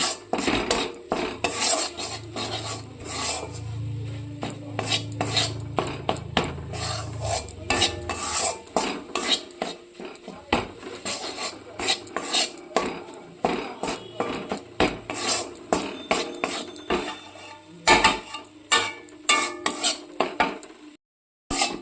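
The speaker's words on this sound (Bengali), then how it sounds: "খুব ভালো করে ময়দার সাথে বাটারটা মিশিয়ে নিতে হবে" Flour and butter are stirred together in a metal pan for white sauce pasta, with rapid repeated clinks and scrapes of a utensil against the pan, close and busy throughout.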